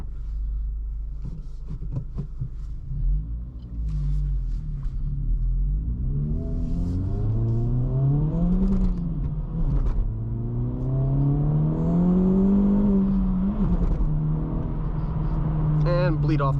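A 2024 Acura Integra Type S, front-wheel drive with 320 horsepower, accelerating hard from inside the cabin, its engine note climbing through rising gears with brief drops at shifts. The engine is loud and steady throughout.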